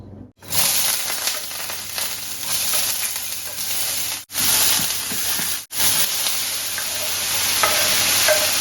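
Eggs with vegetables and garlic frying in a pan, a loud, steady hiss and sizzle that cuts out briefly a few times, heard close with no talking.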